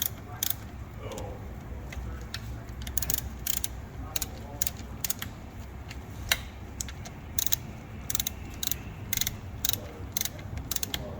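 A ratchet wrench snugs the cylinder head bolts on a KTM 300 TPI two-stroke engine fitted with a billet head insert, giving steady, close, rapid ratchet clicks in uneven bursts throughout.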